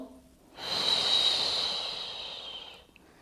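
One long, audible inhale through the nose during a yoga side stretch for scoliosis in pregnancy, a close, airy breath that swells in and fades over roughly two seconds.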